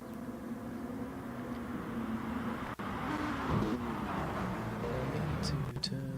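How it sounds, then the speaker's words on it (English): Four-wheel-drive Lamborghini race cars launch off the line in a racing video game, a dense engine roar that holds steady with rising tones and a few sharp clicks near the end. "Those four-wheel drive cars, those Lambos, are just monsters off the line, so Matt Taylor gets an early lead."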